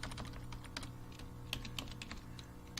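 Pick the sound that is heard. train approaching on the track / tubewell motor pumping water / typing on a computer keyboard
typing on a computer keyboard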